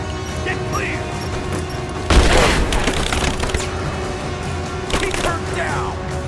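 A grenade explodes in Rise of the Tomb Raider with a sudden loud crack and crashing boom midway that trails into debris and a second smaller burst. Voices call out around it.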